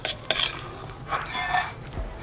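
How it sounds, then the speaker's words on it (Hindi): A metal spoon scrapes roasted cumin, mustard seeds and green chillies out of a kadhai onto a plate, giving several short, close scratching and clinking strokes with no talking. "और इनको हम इस प्लेट में निकाल लेंगे।"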